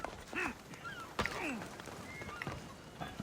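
Squawking, honking fowl cries in Assassin's Creed Odyssey as chickens attack, several short clucks and squeals scattered over a busy game background.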